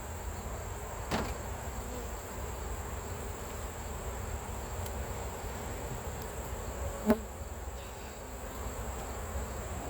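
Honey bees buzz steadily and faintly around a hive box while honey is being pulled, with a single soft knock partway through.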